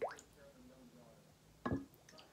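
Air bubbling out of a cup tipped underwater as water seeps in, a couple of soft gurgling plops with a faint watery background, fairly quiet and close.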